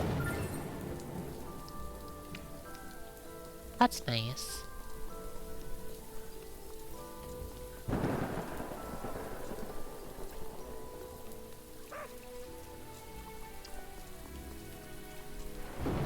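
Rain falling in a video game, a steady soft patter of drops on surfaces continuing throughout at moderate level, with a few brief game sounds and a short spoken remark over it.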